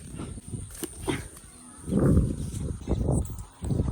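Low, grunting bovine calls from a buffalo amid outdoor rustling and shuffling, at moderate distance, with a couple of rising vocal swells.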